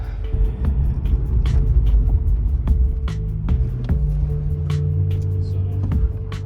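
Car driving and braking repeatedly to bed in new brakes, a loud close engine rumble with sharp brake squeals and clunks scattered across it, steady throughout.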